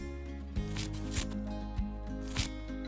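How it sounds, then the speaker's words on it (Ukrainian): Scissors cut around a ring of yarn wound on cardboard while making a pompom chick. Several sharp, evenly spaced snips fall about every half second over steady background music, close and distinct. "Притримуй рукою центр кільця та розріж нитки по колу"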